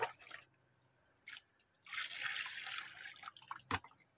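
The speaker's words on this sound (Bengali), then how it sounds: "এই মাংসটা ধুবো বলে এই কলে এসছি" Raw meat being rinsed under an outdoor water tap: faint, uneven bursts of running and splashing water that start and stop, with a sharp drip or splash near the end and no talking.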